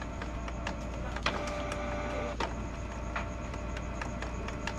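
A Canon G2010 inkjet printer runs a head-cleaning cycle, giving a steady mechanical whir with a few sharp clicks and a brief rising motor whine, close and continuous with no talking.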